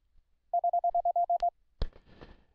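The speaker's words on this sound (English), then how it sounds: "So here's what Fred would sound like if he had an UltraPico Keyer." An UltraPico Keyer sends Morse code as a clean, steady electronic sidetone in a quick run of short, even beeps, followed by a faint click and a little low noise.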